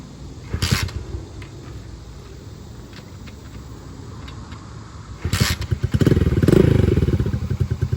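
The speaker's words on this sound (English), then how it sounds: "So we can try the kick start, just so you guys see it." Carbureted Kymco motorcycle being kick-started: two sharp thumping kick strokes with mechanical clatter, the second catching into a louder, rough engine rumble near the end.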